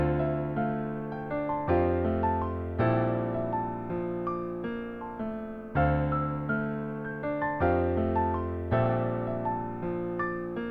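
A piano VST in FL Studio plays a melodic trap melody of sustained chords and single notes, with steady repeated strikes that decay between hits and no voices.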